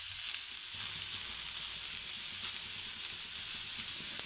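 Burger ingredients frying in a pan in a home kitchen, a steady close hiss and crackle of sizzling oil that holds evenly throughout, with no talking.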